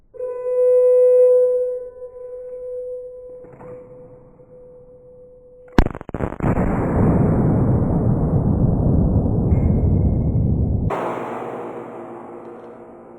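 A Glock 19 pistol shot slowed to a fifth of its speed booms with a sudden deep onset and a long, drawn-out rumbling decay, then a second lower burst, after a sustained low tone.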